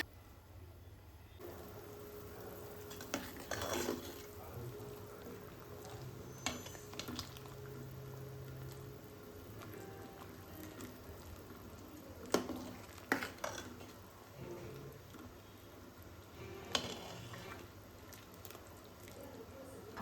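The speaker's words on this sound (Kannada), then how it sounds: "ಮಸಾಲೆ ಎಲ್ಲ ಚೆನ್ನಾಗಿ ಕುದೀತಿದೆ" A thick fish curry masala bubbles and sizzles quietly in a pan, with occasional soft stirring clicks and scrapes; fairly faint and steady throughout.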